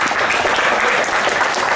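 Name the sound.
audience applause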